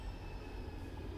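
A Manchester Metrolink tram idles at Old Trafford tram stop, a faint, low, steady rumble with a soft electrical whine and no distinct movement.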